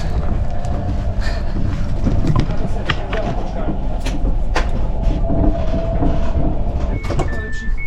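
A train in Germany rumbles steadily with clattering and knocks, a brief tone near the end, and people talking over the continuous noise.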